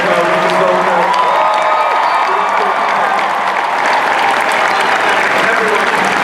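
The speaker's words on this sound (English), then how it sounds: "A huge round of applause for Captain America, Winter Soldier." A large convention hall audience at a San Diego Comic-Con 2013 panel for Captain America: The Winter Soldier breaks into sustained applause and cheering, loud and dense, with whoops and crowd voices threaded through.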